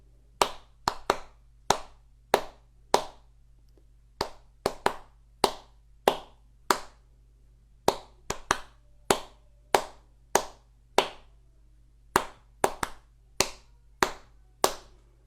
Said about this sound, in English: I'll clap so you can hear me